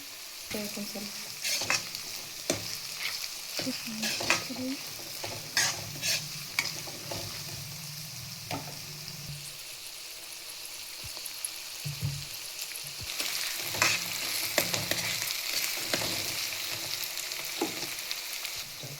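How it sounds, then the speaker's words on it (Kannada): Vegetables with salt frying and being stirred in a pan for vegetable avalakki, with frequent clinking and scraping strokes over a steady sizzle, close and clear throughout. "ನೆಕ್ಸ್ಟ್ ಇದಕ್ಕೆ ಸ್ವಲ್ಪ ಉಪ್ಪು ಹಾಕ್ಕೊಂಡು ಫ್ರೈ ಮಾಡಿ."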